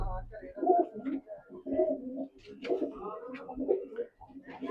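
Soft, low pigeon coos repeat in short phrases close by, with someone talking intermittently over them.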